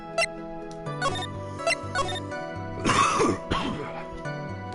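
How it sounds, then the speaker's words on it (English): A few short throat-clearing coughs, close and moderately loud, with brief pauses between them and faint background tones throughout. "Apologies for the cough, my throat has been hurting today."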